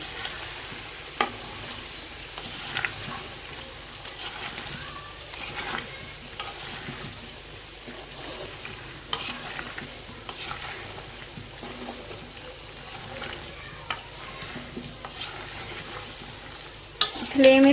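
Amla pickle is stirred with red chili powder in a pan over a medium flame. A close sizzle carries on with repeated scraping and stirring strokes, growing louder at the very end.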